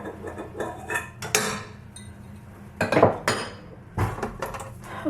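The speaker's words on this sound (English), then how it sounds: "pull out all the things that I store in this bowl" Metal and glass items clatter and clink as they are pulled out of a stand mixer bowl, a string of separate knocks and chinks, some sharp and loud, close by with no talking.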